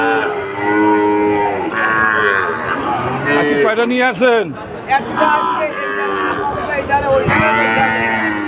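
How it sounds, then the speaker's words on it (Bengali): Several calves bawl and moo repeatedly close by at the Udaypur cattle market in Bagerhat, loud overlapping calls with a person talking among them. "এখানে কয়েকটা বাছুর আছে, সুন্দর সুন্দর বাছুর দেখা যাচ্ছে।"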